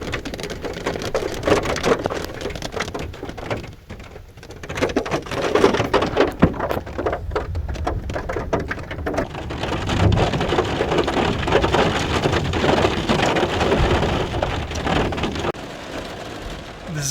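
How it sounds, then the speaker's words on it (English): Heavy rainstorm lashing a car parked in Canyonlands National Park, Utah: dense, steady roar of rain drumming on the body, with low rumbles of thunder rolling beneath and surging louder partway through. "This is an absolutely ridiculous storm."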